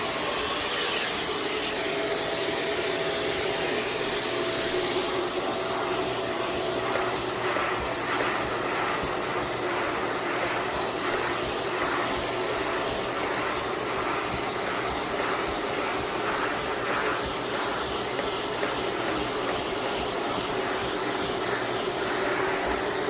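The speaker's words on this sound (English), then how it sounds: "And then we vacuum it out." Loud, steady whine of a vacuum cleaner running continuously close by, with a high tonal hum and shifting suction noise as it moves over upholstery fabric during dry solvent powder cleaning.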